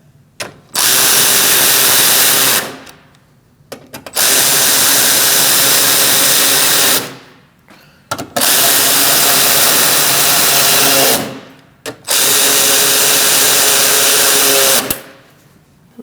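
A power tool drives in the bumper bolts on a 2016-2019 Chevrolet Cruze, with four loud, close bursts of whirring, each lasting about two to three seconds, separated by short quiet gaps.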